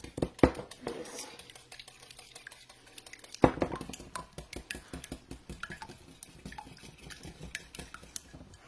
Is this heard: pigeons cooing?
no